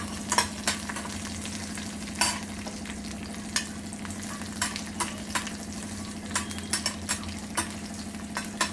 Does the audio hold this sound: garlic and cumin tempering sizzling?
yes